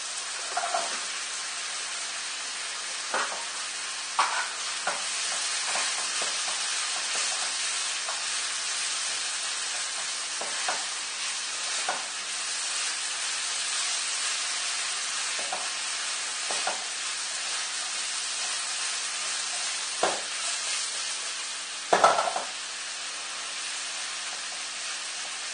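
Vegetables sautéing in a pan as apple is added, a steady close sizzle and hiss broken by periodic scraping stirs and a louder clatter near the end, with no talking.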